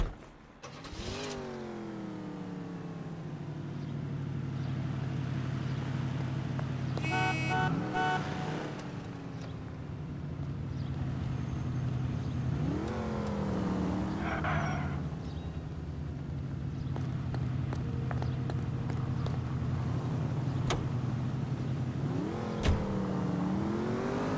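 A car in L.A. Noire drives and revs, its engine droning steadily with repeated rising pitch sweeps as it accelerates and shifts. A few brief metallic clatters come through the engine noise, and there is no talking.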